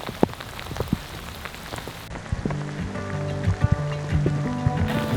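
Rain falls steadily on a hike in Guadalupe Mountains National Park, a close, continuous patter with distinct drops tapping nearby surfaces and a faint tonal hum building in the background.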